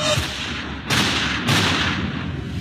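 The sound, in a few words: gunshots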